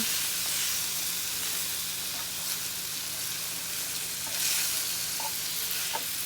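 Onions cook down in a hot pan for a creamy onion gravy while the browned bits are scraped off the bottom, giving a steady, close sizzle with faint stirring throughout and no voices.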